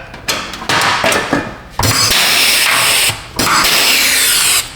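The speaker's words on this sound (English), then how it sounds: "I'm drilling into the frame structure" A power drill bores into the frame structure under a Hyundai Tucson while a rattling heat shield is reattached, giving three loud, sustained bursts of whining, grinding noise separated by short pauses.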